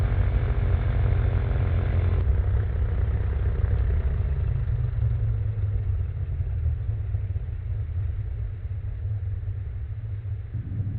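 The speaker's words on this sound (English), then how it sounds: "Throttle back, let the engine cool off." An ultralight aircraft engine runs steadily at low throttle high above ground, giving a continuous rough droning rumble that drops slightly in pitch and loudness after a couple of seconds, with no voices.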